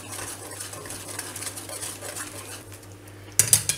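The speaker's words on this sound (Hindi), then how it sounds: "कंटिन्यूसली इसको चलाते रहना है क्योंकि बेसन नीचे नहीं लगना चाहिए" Besan (gram flour) roasts in a pan for laddoos while being stirred continuously, producing a steady low scraping shuffle that ends in a few sharp clinks of a utensil against the pan.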